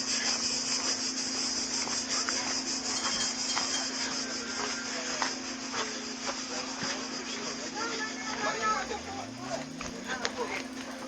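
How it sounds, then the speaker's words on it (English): Cicadas buzz steadily in the Plaka area of Athens, forming a constant high drone at moderate distance. A low hum runs underneath, and scattered footsteps and street noise pass through the scene. "It's still cicada season here"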